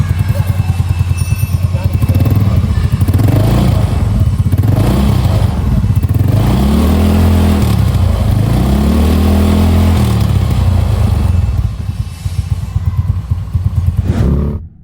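A Yamaha Mio Smile motorcycle engine revs after a full service in a workshop. It is loud and close, with repeated throttle blips rising and falling over a steady idle.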